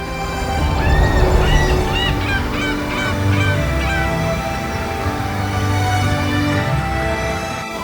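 A group of Dalmatian pelicans calls in a lake or marshland setting, their loud, overlapping honks and harsh cries carrying continuously and close by throughout.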